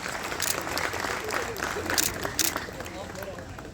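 Continuous applause from a crowd at a hospital MRI and CT scan center inauguration, a dense wash of clapping with a few louder bursts and a murmur of voices mixed in.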